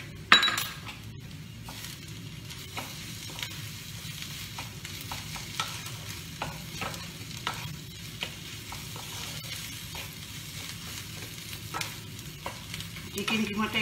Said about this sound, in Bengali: চিকেন কিমাটা একটু ভাজা ভাজা করে নেব, তাহলেই সেদ্ধ হয়ে যাবে।